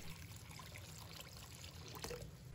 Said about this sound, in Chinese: 然后我们再倒入清水